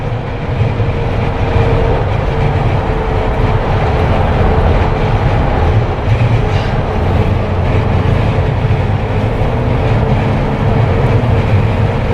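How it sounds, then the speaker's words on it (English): A steady, loud roar of rushing wind buffeting a moving Jeep Wrangler fitted with a light bar, constant and unbroken throughout with no talking. "I hope you guys can hear the wind that's hitting the Jeep itself though."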